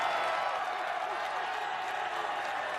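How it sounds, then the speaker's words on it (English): A large arena crowd at an American Ninja Warrior USA vs Japan competition roars and applauds in a steady, broad wash of cheering heard from a distance, with no break in the noise. "And the crowd is going wild."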